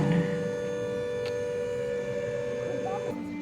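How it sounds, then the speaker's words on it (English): An air raid siren wails in a war museum exhibit, a steady droning tone with low hum that shifts pitch near the end, with no talk. "and then just as he finished speaking, the siren started."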